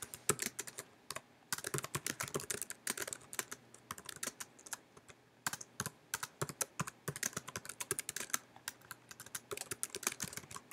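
Typing on a computer keyboard to enter a help ticket description, a steady stream of quiet, close key clicks in quick bursts with brief pauses, no voices.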